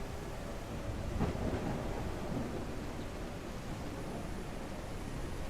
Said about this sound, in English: nighttime with the rain